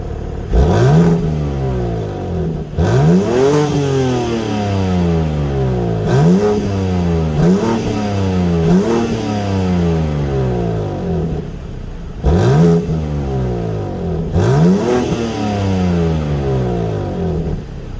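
A 2023 BMW M3 Competition xDrive in Brooklyn Grey revs hard several times, each blip climbing sharply then falling away, loud and close with the engine idling between bursts.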